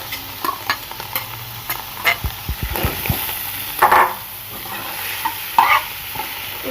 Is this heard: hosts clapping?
no